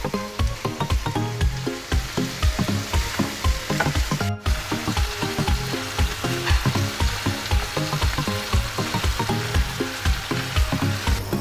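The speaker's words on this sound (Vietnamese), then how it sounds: "Mình xào một xíu cho nó săn lại." Duck pieces stir-frying in a hot pan for a braised duck dish, a steady loud sizzle with rhythmic scraping and stirring throughout, no talking.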